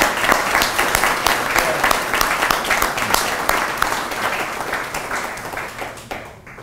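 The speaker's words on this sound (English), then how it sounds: "Can we please give John Schinholzer a round of applause for this?" At a spring awards banquet, the audience gives John Schinholzer a loud, full round of applause, dense clapping from many hands that holds steady and then tapers off near the end.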